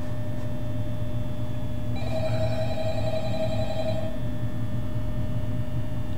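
In Five Nights at Freddy's, a telephone rings once: a bright, trilling burst lasting about two seconds over a constant low electrical hum, then falls silent again.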